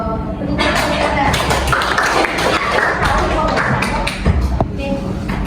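Classroom clapping and applause from students during a microteaching lesson, a dense burst of claps with tapping and shuffling, mixed with voices throughout.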